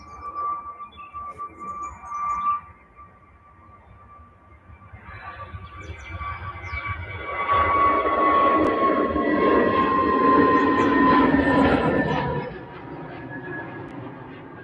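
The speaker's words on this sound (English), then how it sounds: "Jet2 on their way in our favourite livery" A Jet2 airliner approaches Manchester Airport. Its engine roar starts faint and distant, swells into a loud, broad rumble with a whine as it passes overhead, then eases slightly, with brief outdoor noise early on.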